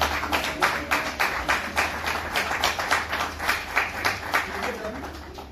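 A group claps in a steady, rhythmic beat at a civil wedding ceremony, each clap sharp and evenly spaced, close and fairly loud, with a low hum beneath.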